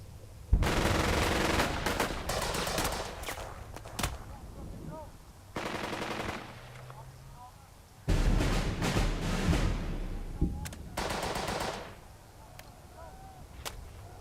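Gunfire in the World War II game Burden of Command crackles in several dense machine-gun bursts and scattered rifle shots, loud and close, separated by short quieter gaps with faint whizzing sounds.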